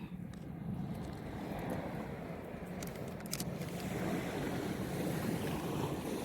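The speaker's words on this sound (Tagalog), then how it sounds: "Ayan yung dagat guys." Steady rushing sea waves on a beach with wind noise across the microphone, a continuous broad roar that swells slightly toward the end.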